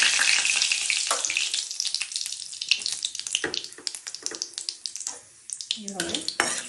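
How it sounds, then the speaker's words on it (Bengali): White cumin seeds and a dried red chilli fry in hot oil in a pan, with a loud, crackling sizzle that starts dense and breaks into sharper spits and pops as it goes on. "এই যে সাদা জিরা দিচ্ছি, শুকনো লঙ্কা দিচ্ছি"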